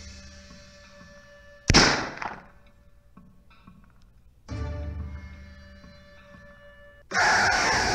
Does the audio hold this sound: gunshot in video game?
yes